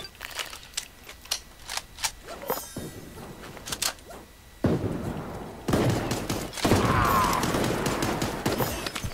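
Grenade blast in the cartoon battle royale game Super Animal Royale, heard amid rapid gunfire crackle, with a sudden louder burst midway and a sustained noisy roar afterwards, close and loud with no talking.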